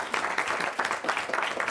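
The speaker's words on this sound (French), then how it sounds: "Et nous on peut les applaudir." Audience applause, a brief burst of many people clapping together in a lively, even patter with no voices over it.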